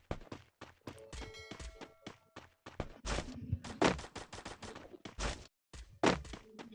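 Gunfire in a PC shooter game: sharp, punchy shots in quick irregular bursts, some close and heavy, separated by brief gaps, with no talk over them.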